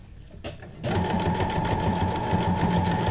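A sewing machine stitching paper scraps into junk journal ephemera runs loud and steady after a soft start, its fast even whirr close and continuous with faint talk beneath.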